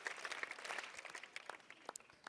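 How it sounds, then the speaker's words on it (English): A crowd at a school assembly during prefectorial elections claps in a dense, steady patter of many hands, moderately distant and sustained throughout. "Clap for yourselves."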